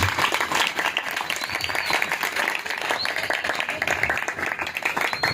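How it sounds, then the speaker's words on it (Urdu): A church congregation at an Urdu-language sermon claps loudly and continuously, a dense, even roar of many hands filling the space with no break for several seconds. "میں چاہوں گا خدا کے کلام کے لیے زوردار تالیاں بجا کر خدا کے کلام کی بات کریں"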